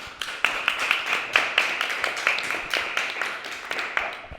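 Audience applause at a library talk and discussion session, a small group clapping with a clear, fairly regular rhythm of distinct claps, close and moderately loud for several seconds.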